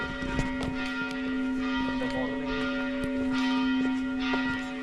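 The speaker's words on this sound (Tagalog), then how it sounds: "Lagi may kampana." A church bell rings steadily with a strong sustained tone and shimmering overtones, carrying clearly over faint background noise.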